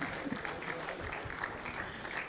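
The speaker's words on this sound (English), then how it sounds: "Please keep clapping until he's comfortable." Faint audience applause welcoming a lecturer at a Ghana Medical Association public lecture on food safety: a soft, continuous patter of clapping hands heard from a distance, with a faint murmur of voices underneath.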